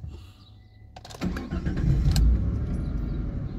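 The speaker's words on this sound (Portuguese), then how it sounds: "Vamos dar uma ligadinha aqui no Stratos" A Chrysler Stratus with about 80,000 km catches on the starter after a brief crank and settles into a steady, close idle, preceded by faint clicks and a quiet interior hum.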